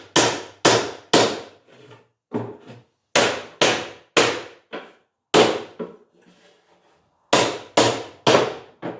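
Stair parts are hammered together through a wooden block in a rapid series of sharp, loud, close knocks in irregular clusters, with short gaps between groups.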